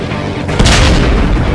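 A deep boom from enemies exploding in the video game Ride to Hell: Retribution, a loud blast that bursts in partway through and rumbles on over steady game noise.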